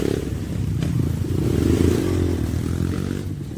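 A KAYO 300cc motorcycle engine laboring on a muddy dirt road, a low, rough, steady drone with rattling and clattering over it, fairly close and sustained throughout.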